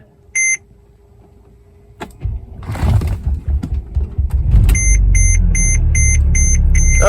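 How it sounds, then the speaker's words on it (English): A non-running Mercedes R320 CDI diesel with a shredded serpentine belt is started: a brief chime, then the starter cranks and the engine catches and settles into a loud steady idle while repeated dashboard warning beeps sound. "we're gonna give this thing a start and see if it runs again"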